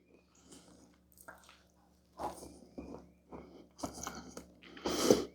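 Someone eating moist homemade carrot cake with frosting, soft close-up chewing and squishy bites in short bursts against a quiet background.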